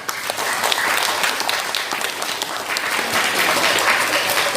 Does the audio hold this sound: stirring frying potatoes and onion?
no